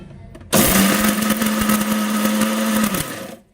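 Mixer grinder running with ridge gourd pickle inside, starting abruptly with a loud, steady whirring motor drone for about two and a half seconds before winding down.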